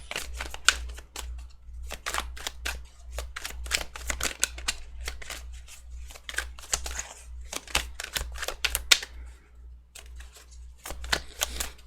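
Rapid papery riffling and flicking in repeated bursts, like a deck of cards being shuffled close by, with a steady low hum underneath and no talking.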